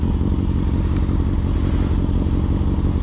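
A motorcycle engine roars loud and close, holding a steady, rough, high-revving drone toward redline for the full few seconds.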